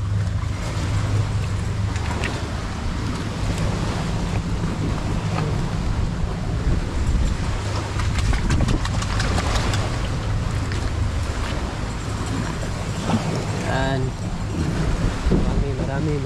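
Sea waves washing in at the shore, a steady broadband wash with gusts of wind buffeting the microphone, while a person talks close by.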